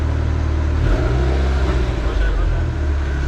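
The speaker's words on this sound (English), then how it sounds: "Driving off the dyno." A car with a new header, making about 303 wheel horsepower, rolls off a dyno with a loud, steady low engine rumble close by, and voices are heard over it.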